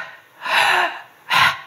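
A voice imitates the rough, labored breathing of a bedridden hospital patient on an oxygen mask: two loud, close, harsh breaths, a long drawn one followed by a shorter one.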